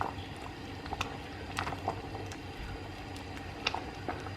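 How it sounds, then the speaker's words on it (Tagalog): A pot of pasta and beans for pasta e fagioli bubbles at a steady low simmer, with soft scattered pops and small splashes over a continuous gentle rumble, close by and fairly quiet. "hayaan lang natin siyang mag-boil"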